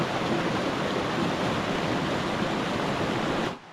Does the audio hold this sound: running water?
yes